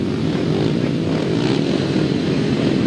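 Grasstrack racing sidecar motorcycle engines revving hard at the start line of a 2003 European semi-final, a loud, dense, continuous roar with no break.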